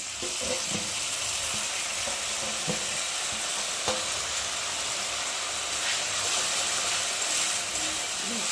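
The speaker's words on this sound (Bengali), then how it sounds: "এর মধ্যে এখন মেখে রাখা টমেটোটাকে ঢেলে দেবো।" Mashed tomato poured into softened onions frying in a pan for potato chokha, a continuous loud sizzle at close range with occasional stirring clinks and scrapes, voices faint in the background.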